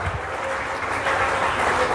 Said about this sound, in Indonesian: tepuk tangan kepada Tuhan